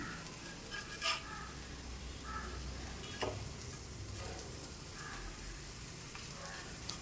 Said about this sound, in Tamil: நல்லா அது கிறிஸ்பி ஆகிற வரைக்கும் செவக்கிற வரைக்கும் நம்ம திருப்பி திருப்பி விட்டு ஃப்ரை பண்ணிக்கிட்டே இருக்கணும்